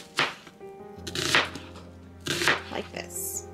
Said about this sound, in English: you're going to go ahead and cut up your onion. And all you're going to do is slice it